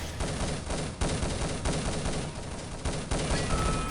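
Dense automatic gunfire fills a 2vs2 tournament match in the video game Urban Zone, rapid overlapping bursts and sharp cracks ringing loud and close with brief pauses between volleys.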